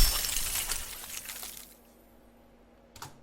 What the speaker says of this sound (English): First we have this ice cracking sound.